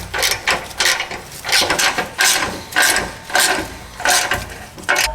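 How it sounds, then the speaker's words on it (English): A ratchet wrench clicks in repeated bursts while backing out 12mm bolts from the skid plate of a 5th-gen Toyota 4Runner, close and fairly loud, about eight rhythmic spurts of ratcheting with brief pauses between. "So we're gonna take this entire skid plate off. It's 4 12mm bolts here, here, and then there's a couple up front."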